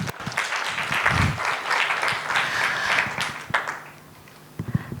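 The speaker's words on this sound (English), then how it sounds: "Please, could you give him a round of applause?" Applause from a conference audience, a warm burst of clapping that swells for about three and a half seconds, then fades to near quiet before a few scattered claps at the end.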